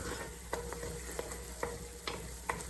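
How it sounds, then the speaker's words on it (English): Vegetables cook in a pan for a fish couvion with tomato gravy, a soft continuous sizzle broken by a few light spoon scrapes at irregular intervals, quiet and with no talk. "now I'm going to bring the vegetables back in, give it a good stir"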